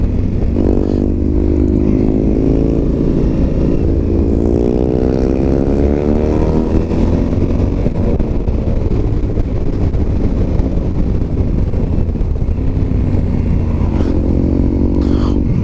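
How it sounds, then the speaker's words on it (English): A 2021 Honda Africa Twin 1100 motorcycle accelerates hard in second gear on a winding mountain road, its engine note climbing in steady rising sweeps, loud and close throughout with wind rush. "this bike just gives me all the torque. Second gear."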